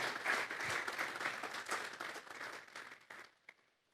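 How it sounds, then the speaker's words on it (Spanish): A church congregation claps together as an offering to God, a dense burst of applause that holds steady, then thins out and fades over about four seconds, ending with a few scattered claps. "Vamos a darle una ofrenda de palmas a Dios en esta hora."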